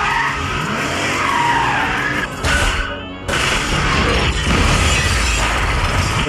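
Cars skid and swerve in a loud continuous rush of tire squeal and engine noise, with a brief drop in sound midway before the noisy, scraping skid resumes at full volume.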